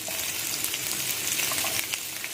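Chopped onion frying in hot oil for an egg roll paratha filling gives a steady, close sizzle with small crackles and pops throughout.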